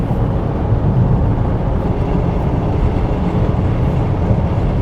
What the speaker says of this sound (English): Okay, so that's a good solid turbo pull.